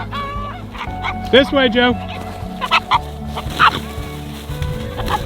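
Rooster on a farm clucking and squawking in rapid bursts while being chased back inside a fence, close and loud, with people talking over it.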